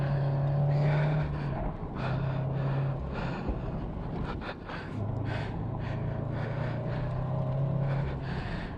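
A car with adjustable coilovers lapping a race track: a steady engine drone rises and falls as the driver lifts and accelerates, with rushing wind and bumpy noise between the pulls.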